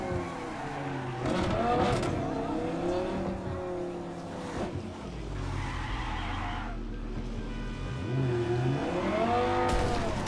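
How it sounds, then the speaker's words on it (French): In Cyberpunk 2077, a car's tires screech and slide through turns while the engine revs up and down in repeated surges, loud and close, with a deep rumble in the middle and a fresh wail of skidding near the end. "La voiture elle patine"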